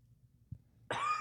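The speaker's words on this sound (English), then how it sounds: "You seem to be coughing a lot." A person coughs during a live podcast at a gaming convention: a faint short cough, then a louder, rough throaty burst, up close in a quiet room.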